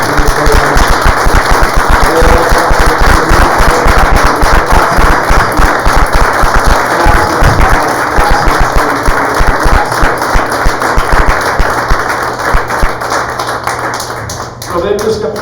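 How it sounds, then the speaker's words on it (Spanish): A church congregation applauds loudly and at length during a Spanish-language sermon, a thick, sustained stream of rapid clapping and whoops close by, easing slightly before the end as a voice comes through. "Dale un aplauso a Cristo"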